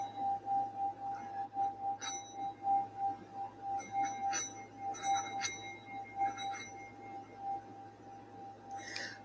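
A monks' meditation bell ringing in a steady, sustained tone with faint, glassy chimes scattered over it, soft and calm with no voices.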